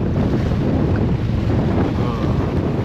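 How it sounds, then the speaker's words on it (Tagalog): Strong wind roars steadily across the microphone, a loud, constant buffeting rush with no voices. "napakalakas ng hangin."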